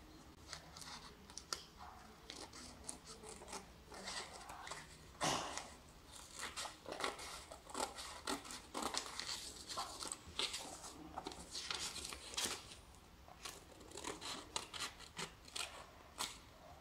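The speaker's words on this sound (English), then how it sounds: "take a scissors," Quiet, repeated snips of scissors cutting through paper, in irregular bursts with soft rustling in between.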